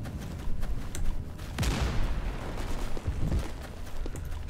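Rapid STG-44 assault rifle fire in the Roblox game Unit 1968, dense bursts of sharp cracks with booming impacts and distant battle noise, loud and continuous with no talk.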